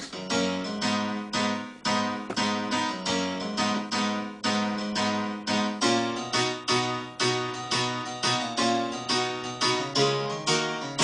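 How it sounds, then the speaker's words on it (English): Bright, rhythmic electronic piano chords pulse in repeated stabs with a swirling, sweeping tone, steady and loud with no voices. "when the tune drops, the pianos sound like this."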